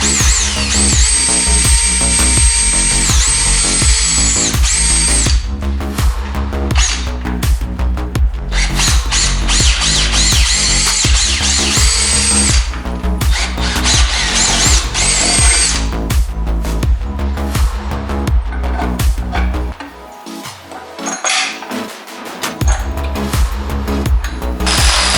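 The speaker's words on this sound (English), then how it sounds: "I'm gonna drill a small hole into this, smallest hole I can, make sure it's going into a stud" A power drill boring a small hole through a garage wall into a stud, loud whining bursts of high-pitched motor noise with brief pauses between, close to the microphone.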